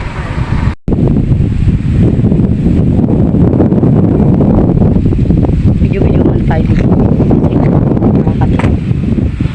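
Strong wind buffets the microphone in a constant loud rush, gusting roughly throughout, with a brief dropout near the start.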